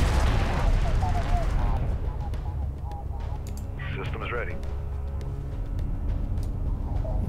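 A unit explodes in battle in Homeworld: Deserts of Kharak, a loud burst of blasts and gunfire that fades into a rumbling backdrop while someone talks over it.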